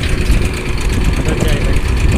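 A tractor engine idles nearby in a steady, loud, low rumble with an even mechanical chug throughout.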